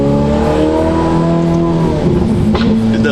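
A modified Ferrari F8 Tributo with an aftermarket exhaust and tune revs loudly and close by, its engine note holding a strong steady drone before shifting pitch near the end.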